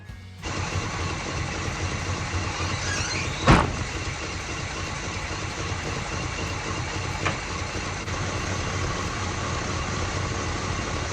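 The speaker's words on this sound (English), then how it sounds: "Start the car" A 1979 Pontiac Firebird engine turns over and catches with a sharp burst, then settles into a steady, loud idle that runs on alone.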